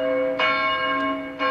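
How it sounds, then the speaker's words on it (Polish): Church bells in Warsaw toll with a rich ringing resonance on the anniversary of the Warsaw Uprising, a few strikes overlapping as the tones sustain and decay. "W warszawskich kościołach zabiły dzwony."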